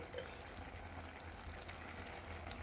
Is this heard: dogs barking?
no